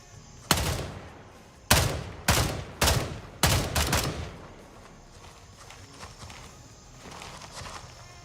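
Gunfire in the video game Gray Zone Warfare: several sharp shots in an irregular burst, moderately loud, then quieter scattered reports fading out, with no talking.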